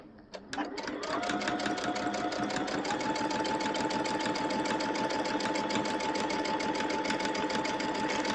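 A sewing machine stitches an embroidery practice panel. It starts up and settles into a loud, steady, rapid mechanical rhythm that keeps going to the end.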